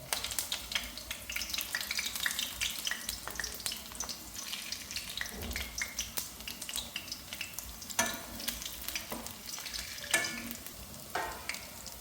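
Potato evening snack frying in hot oil, a steady crackling sizzle with intermittent stirring and scraping clicks, close and fairly quiet, with occasional sharper spatters.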